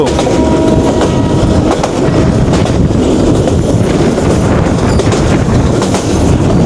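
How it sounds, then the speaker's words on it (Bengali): Agnibina Express pulled by a Korean locomotive, running fast through countryside toward Mymensingh, with a loud, continuous rumble and rattling clatter of carriages and wind buffeting close to the microphone. "দুর্দান্ত গতি নিয়ে ছুটে চলেছে আমাদের অগ্নিবীণা এক্সপ্রেস কোরিয়ান লোকোমোটিভ নিয়ে"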